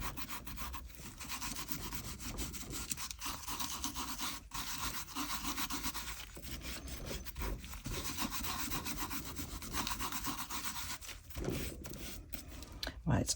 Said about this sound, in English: I'm just going to brush off all this excess glitter now